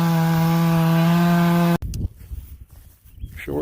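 Stihl chainsaw trimming a log in the woods, a loud steady high-revving whine for nearly two seconds that cuts off abruptly, followed by quieter rustling and handling noises.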